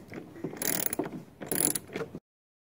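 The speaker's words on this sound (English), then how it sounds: "And we just tighten the last bolt" A ratchet tightening the last bolt on a Chevy Trailblazer during an ignition coil replacement, two close bursts of rapid clicking, then the sound stops abruptly.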